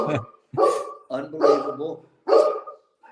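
A pet dog barks several times indoors near a man on a live sports talk call, the loud barks separated by short pauses, with a voice speaking briefly among them.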